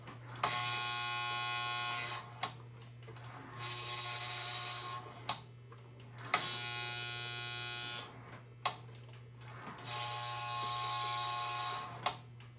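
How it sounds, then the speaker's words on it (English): A steady low hum runs throughout while the E unit reverser of a Lionel C&O GP7 2365 toy train locomotive buzzes harshly on and off in long bursts, punctuated by sharp clicks at each change. "what that buzzing sound you hear is called the E unit"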